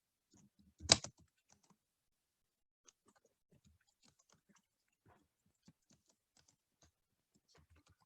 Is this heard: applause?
no